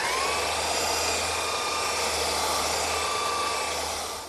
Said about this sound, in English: now I'll smooth it all out with my belt sander